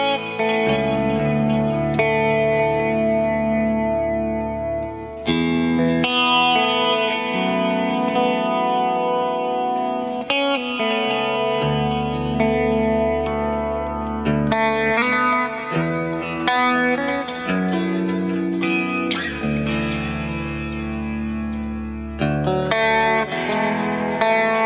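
A Squier Paranormal Baritone Cabronita Telecaster rings out through effects, dense sustained chords thick with chorus, echo and slight grit, playing continuously and loud with a few brief pauses between phrases.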